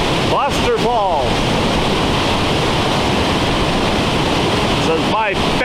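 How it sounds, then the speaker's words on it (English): Roos Falls pours in a steady, broad rush of water, loud and close and continuous throughout, with brief voice-like chirps near the start and end. "This is my favorite waterfall, especially on a day like today."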